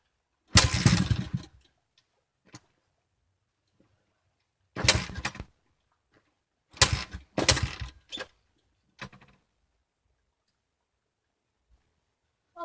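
A Honda CRF110 dirt bike being cold-started on half choke: several short bursts of cranking and sputtering, each dying after about a second, separated by silent gaps and a few faint clicks.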